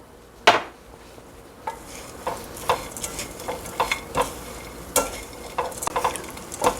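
Small anchovies being stirred and tossed in a pan after sesame oil and sesame seeds are added, with repeated scraping clinks of a utensil against the pan over a faint sizzle.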